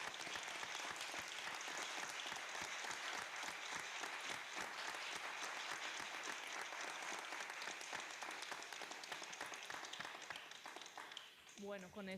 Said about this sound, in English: I would like to take a couple of seconds to give a big round of applause to this person